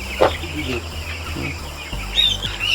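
Young broiler chicks on a poultry farm in Assam, during second-dose vaccination, give scattered high peeps and chirps over a low background hum, with a few louder calls near the end.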